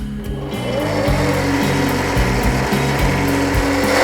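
A lathe takes a heavy, deep cut in brass at a large feed, with a loud, continuous motor drone and a rhythmic, stepping grind as the tool bites. No one speaks.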